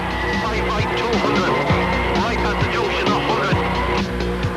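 A Subaru rally car races flat out on a special stage of the 2005 Donegal Rally, engine roaring loud and close through repeated gear changes, with tyre squeal and gravel noise and no clear talk.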